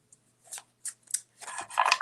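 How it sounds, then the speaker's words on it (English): A deck of cards is shuffled up close for a yes-or-no card reading, with a few short crisp swishes and then a longer rustling riffle at the end. "I'm gonna shuffle for that new beginning"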